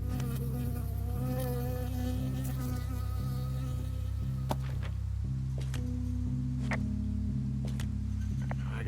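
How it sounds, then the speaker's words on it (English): Bee buzzing in the PC game Firewatch, a steady droning hum that runs through the whole stretch over a low looping game soundtrack, with a few faint clicks and no talking. "I got stung by a bee."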